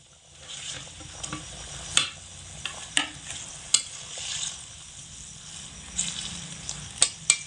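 Egg fritters go into a boiling potato gravy over high heat and are stirred, a soft bubbling simmer broken by repeated sharp clicks and taps of a spoon against the pan.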